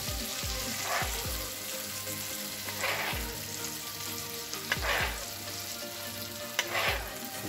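A lamb and beef roulade sizzles steadily in a pan, a close crackling hiss punctuated by several low knocks and a few brief surges as it is basted and moved.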